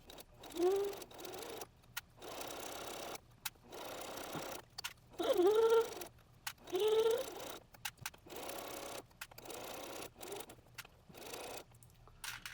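A sewing machine stitching a zipper onto a fursuit, running in several short rattling bursts separated by silences, close and fairly loud, with a few brief whining tones between runs.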